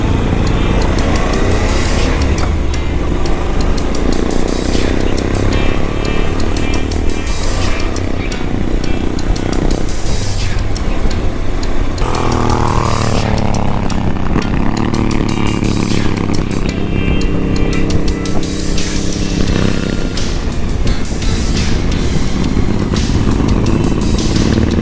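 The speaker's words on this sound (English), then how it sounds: "Although the Ducati is really nice to look at and really nice to listen to" A Ducati motorcycle engine runs loud and close for a sustained stretch, a rough, pulsing rumble with shifting revs and no talk, out in the Cotswolds countryside.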